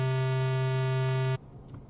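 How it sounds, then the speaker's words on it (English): A square wave synthesizer tone holds a steady buzzing pitch with strong harmonics, loud and alone, then cuts off abruptly after about a second and a half. "So if you have that square wave, sounds like this."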